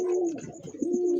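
A pigeon coos steadily at close range, a low rolling bakum call that carries almost unbroken through the moment with a brief dip midway, with no talking over it.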